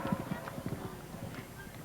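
Horses gallop cross-country over fences at the Burghley Horse Trials, with a steady run of close clip-clop hoofbeats that continues under a commentator's voice.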